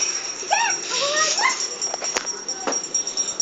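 A dog whimpers and whines in short rising cries, close by, with people talking over it and a steady high electronic tone in the background.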